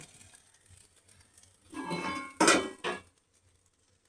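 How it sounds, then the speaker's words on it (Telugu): A lid is set down on a cooking pot with a few short metallic clanks and a rattle as it settles, close and fairly crisp after a quiet stretch. "మూత పెట్టాను"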